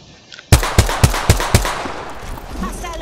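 Rapid burst of five gunshots in Apex Legends, sharp and loud, evenly spaced like quick semi-automatic fire, followed by a decaying tail and faint game ambience.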